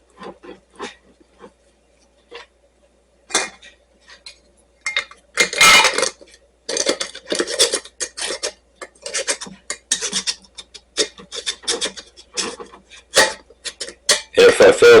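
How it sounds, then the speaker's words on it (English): Metal lid being hand-tightened onto a glass canning jar of raw venison, a run of sharp clicks, taps and scraping twists, close and intermittent, growing busier toward the end. "Then you place your lid on, hand tighten it."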